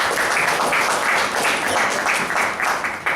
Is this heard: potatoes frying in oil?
no